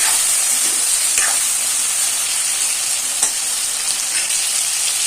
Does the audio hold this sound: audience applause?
no